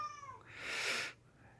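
A cat gives one drawn-out, rising-then-falling meow, close but fairly soft, against a quiet room with no talking.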